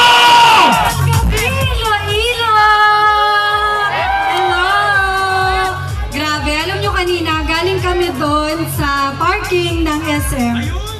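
A large crowd at a mall tour event for the group Evo All-Star at SM Iloilo cheers and shouts loudly and continuously, with voices rising and falling over a steady rhythmic beat in the background.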